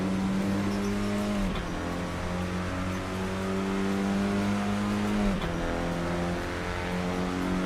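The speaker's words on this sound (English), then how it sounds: "Good engine sound on this." A steady race car engine from the racing game Assetto Corsa drones at high revs, with two brief dips where it drops and climbs back, a continuous synthetic-sounding game engine tone.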